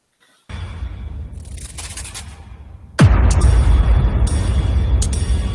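A loud explosion bursts in abruptly partway through, following a stretch of steady rumbling noise, and leaves a sustained roaring, crackling tail that continues to the end.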